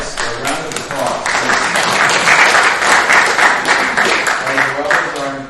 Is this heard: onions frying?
no